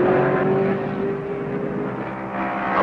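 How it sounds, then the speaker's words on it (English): A Ford Mustang Trans Am race car at Lime Rock in 1970 goes by alone, its engine a steady loud roar with a droning tone that eases slightly, then swells again near the end. "the Mustang passes alone"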